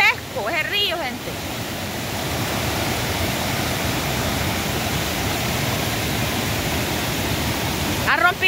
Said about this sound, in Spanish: Va gigantesco ese río, gente.